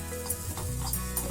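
Grated coconut sautés in a pan for aval puttu, a quiet sizzle broken by soft scraping strokes of a spoon stirring at a gentle, irregular rhythm, close by with no talking.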